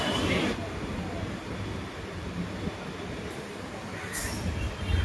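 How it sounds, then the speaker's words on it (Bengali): A local train pulling into a station platform: a low rolling rumble of wheels and carriages with a brief high metallic squeal of wheels near the end. "এই যে আমাদের ট্রেন আসছে, আমাদের ট্রেন চলে এসছে।"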